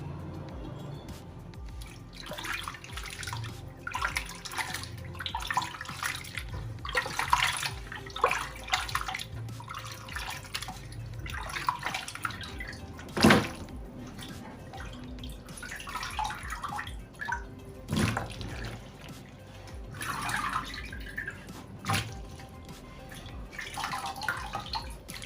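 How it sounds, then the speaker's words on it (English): Water runs and splashes in a sink as soaked cassava tapioca is washed by hand, with sloshing, dripping and rubbing sounds in irregular bursts, close by and steady. "So I'll take it to my sink and wash."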